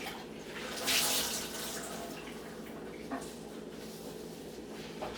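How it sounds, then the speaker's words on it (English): Water runs from a kitchen tap while hands are rinsed during oxtail stew preparation, a steady moderate splash with a louder gush near the start and a few small clicks. "Wash off my hands."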